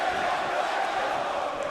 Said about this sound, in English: Is it safe to say this crowd is solidly behind the team of Chad Gable and Jason Jordan?